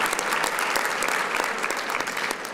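An audience at the 30th annual City of Tampa Black History Celebration applauds a group of young people, dense sustained clapping from a large crowd filling the whole stretch, loud and even with no voices on top.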